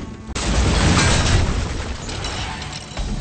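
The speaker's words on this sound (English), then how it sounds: "Riding carts and throwing bombs! This is a blast!" A bomb goes off in the Hearthstone League of Explorers adventure: a sudden loud boom bursts in after a brief quiet moment, then rolls into a heavy rumbling tail that slowly fades, with no talking.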